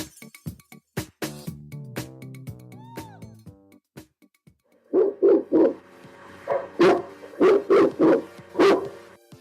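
Several dogs barking as a sound effect, a burst of loud barks and yips repeating in quick clusters after a more scattered, varied opening with a hooting tone.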